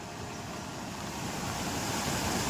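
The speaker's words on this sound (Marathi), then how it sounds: "केवढा स्पीडने पाणी हा बघा" A steady, loud rush of fast-flowing flood water from an overflowing village lake after days of rain, a continuous broad roar with no voices.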